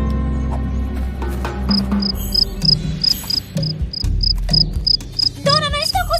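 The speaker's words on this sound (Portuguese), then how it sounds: "não estou conseguindo pegar esses grilos fujões" Runaway crickets in a Brazilian cartoon chirp in a loud, regular series of short high pulses that keeps going throughout, over busy cartoon music and sound effects with no talk.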